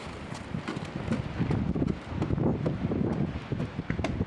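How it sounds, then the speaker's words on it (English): Strong wind buffets a microphone outdoors on a gusty night, producing loud irregular rumbling thumps and roaring bursts that rise and fall throughout. "That's some serious bad wind."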